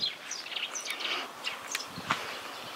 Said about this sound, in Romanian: Sunt niște vrăbii isterice.